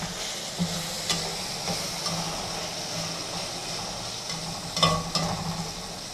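A pan of dal mash with spices and salt is stirred, giving soft scraping strokes and occasional clinks of the spoon over a low, steady sizzle; nobody speaks.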